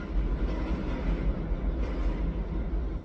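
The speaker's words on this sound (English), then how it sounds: "Pardon the train." Train passing nearby with a steady low rumble and rolling wheel noise that holds fairly loud for the whole few seconds, swelling slightly in places, with no talk over it.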